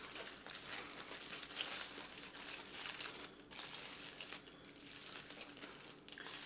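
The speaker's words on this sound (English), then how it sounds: "Now we're just going to wrap it. We're just going to kind of fold it over like this." A French onion loaf being wrapped and folded over, a faint continuous crinkle of wrapping material handled close by, with no talking.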